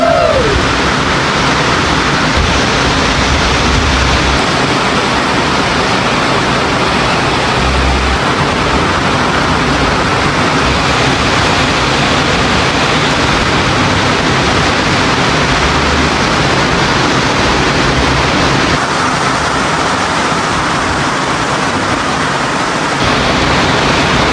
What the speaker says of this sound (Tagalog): Grabe, napakalakas po ng ulan.